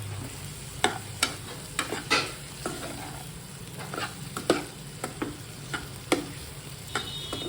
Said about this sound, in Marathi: याच्यामध्ये परतून घेऊ छान मीठ टाकून घेते आधी मीठ टाकून घेते आणि छान मिक्स करून घेते